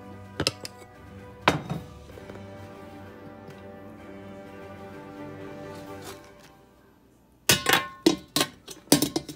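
A pan of beef brisket goes back into the oven: a few sharp metallic clanks, a long hum of the running oven, then a quick cluster of loud bangs and rattles as the pan slides in and the door shuts.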